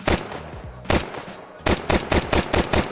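A few single video-game Glock pistol shots ring out, then a quick burst of rapid shots follows, loud and close with a sharp, punchy crack.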